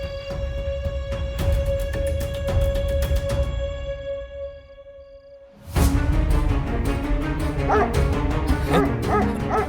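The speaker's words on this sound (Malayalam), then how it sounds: "ഇവിടുത്തെ നായയുടെ പേരാ ശത്രു." A dog barks and yips in a quick run of sharp bursts, fairly close, following a stretch of steady background sound.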